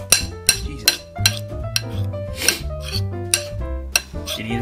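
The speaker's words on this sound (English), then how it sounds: "Do a quick stir." A utensil gives a mixture a quick stir in a bowl, producing a steady series of sharp clinks and scrapes against the side. The sound is close and uneven in rhythm.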